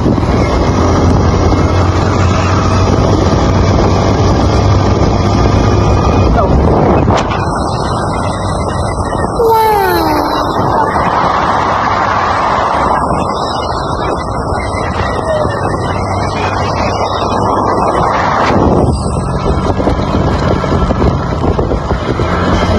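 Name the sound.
riding a motorcycle with wind noise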